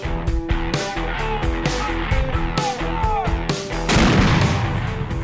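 Marine mortars firing on a training range in Japan, a series of sharp booming reports in irregular succession with a heavier, denser blast near the end, over constant background noise.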